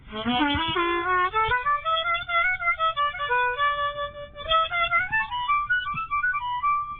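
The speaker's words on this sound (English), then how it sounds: "It's on an A harmonica." An A harmonica played in eleventh position plays a wavering melodic line with bends and sliding notes, phrased in short breathy bursts, close and clear with no other sounds.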